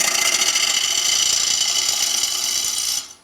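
A woodturning gouge cutting a closed-form bowl on a lathe gives a continuous bright hissing shear for about three seconds, close and steady, then stops abruptly.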